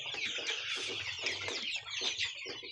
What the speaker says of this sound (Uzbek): 2 oylik jo'ja.